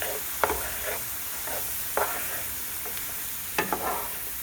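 Ground hamburger meat for shepherd's pie sizzles steadily in a frying pan, with a few sharp scrapes and clacks of a utensil stirring and breaking it up, close and moderately loud with no talking.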